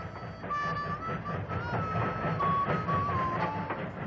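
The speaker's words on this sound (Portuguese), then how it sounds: "O trem está vindo, Jenny." Train approaching in an animated cartoon, a steady rumbling rail noise with rhythmic clatter and a faint whistle-like tone running throughout, loud and close with no talking.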